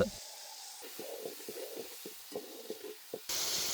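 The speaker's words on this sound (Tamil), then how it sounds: "காளானியும் காலிஃப்ளவரையும் இப்போ இறக்க போகிறேண்ணா. இறக்கி எண்ணெயிலே வதக்கிக்கிறோம்." Mushroom and cauliflower sautéing in moderately hot oil, with a loud hiss at the start, then soft bubbling pops and sputters, then a sudden burst of strong sizzling at the end.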